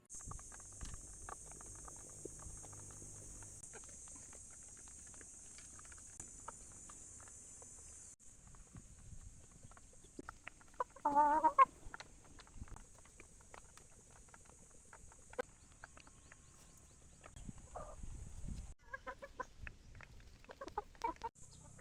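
Young gamecocks at a gamefowl farm cluck softly and intermittently over a constant high insect buzz, with one louder squawk in the middle; the scene is quiet and outdoors.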